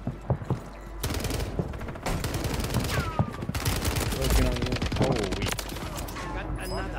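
An StG 44 rifle in a video game fires loud, rapid automatic bursts in several volleys, with short pauses between them, while a voice talks over the shooting.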